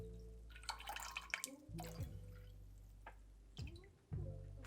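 Water is poured into a braise in a cooking pot, a splashing, gurgling stream with drips and a few clinks of utensils, stopping and starting in short bursts against a low steady hum.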